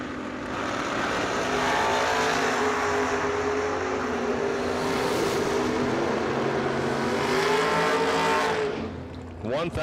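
Mosier Engineering Camaro drag racing car at a drag strip, a loud, sustained roaring engine blast that builds and holds for several seconds before dropping away as the car passes.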